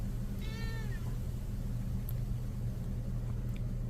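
A single drawn-out cat meow, clear and close, rising then falling, over a constant low engine-like rumble.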